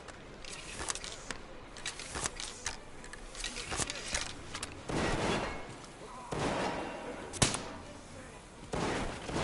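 Gunfire in the video game Metro Exodus, scattered loud shots and heavy bursts mixed with footsteps and thuds, close and punchy, with a voice speaking at moments between the shots.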